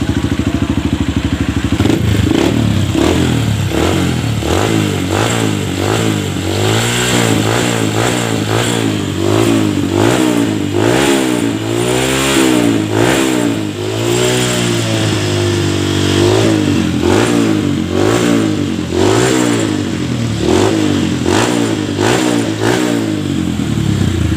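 A Honda CRF motorcycle with a sputtering fault and nearly empty fuel runs loud and close, revving up and down repeatedly over a steady idle rumble, with no talking.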